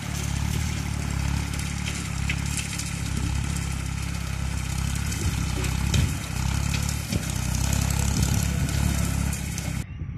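A small tractor pulling a rotary mower cuts through pasture on a farm, its engine running as a steady, loud mid-pitched drone with clattering from the blades throughout, no voices over it.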